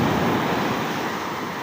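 Large ocean waves break on the shore with a loud, sustained wash of surf and wind noise, no voices over it.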